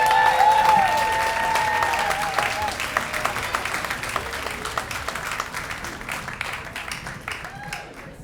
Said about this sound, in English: Let's have a nice round of applause for Cliff Hornsby.